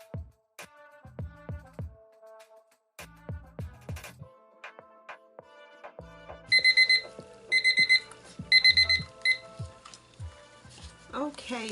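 A timer alarm bursts into rapid, high beeping in three clusters during a resin coaster craft session, with scattered clicks and handling noises leading up to it and no one talking over it.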